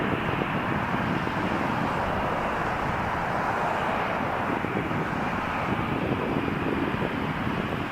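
An Air Canada Airbus A320 taxis at Toronto Pearson airport as a steady, loud broadband jet engine roar with wind rumble, unchanging throughout and heard from nearby without speech.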